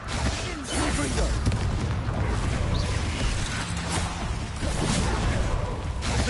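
Confringo fire-blast spell explosions in Hogwarts Legacy, heavy booming blasts and whooshes churning continuously amid dense combat noise, with creaks and rumbles under a voice.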